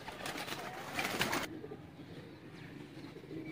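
Soft teddy pigeon cooing, quiet and close, over faint background hiss that briefly swells with a brighter rustle at the start.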